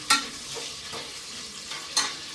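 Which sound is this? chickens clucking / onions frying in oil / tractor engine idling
onions frying in oil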